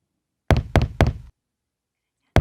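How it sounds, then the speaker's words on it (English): Three firm knocks on a wooden door in quick succession, loud and close, followed by silence and the start of a fourth knock at the very end. "When the wolf knocked on Grandma's door,"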